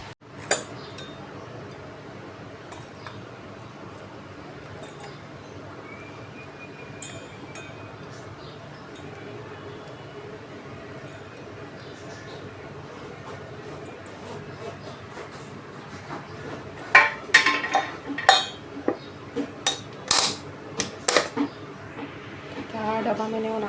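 Steel dishes and cutlery clink in a home kitchen while freshly fried cutlets are packed into a child's tiffin box, with light talking through most of it and a burst of sharper metallic clatter near the end.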